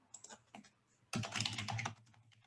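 Typing on a computer keyboard while writing code, with a few soft scattered keystrokes followed by a dense, rapid burst of clattering keys up close, then tapering off.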